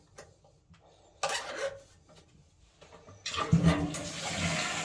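A toilet flushes with a loud rushing gush, then water keeps swirling and refilling steadily nearby, preceded by a few small clicks.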